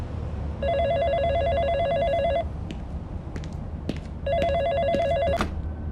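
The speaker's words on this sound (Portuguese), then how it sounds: "Alô, dona Shirley, posso passar uma ligação interurbana?" A telephone rings for an incoming long-distance call, two bursts of a warbling electronic bell separated by a pause, fairly loud and close over a low background rumble with a few faint clicks.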